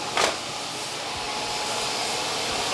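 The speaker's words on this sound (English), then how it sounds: "The dust collection system's the best." A workshop dust collection system runs with a steady, loud broadband whoosh of rushing air, holding constant throughout after a brief louder burst near the start.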